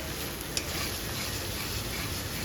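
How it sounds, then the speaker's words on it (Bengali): White cooking oil poured into a hot wok sizzles in a dense, even hiss that holds steady throughout, with one faint tick near the start and no speech. "রান্নার জন্য দিয়ে দিচ্ছি কড়াইতে সাদা তেল।"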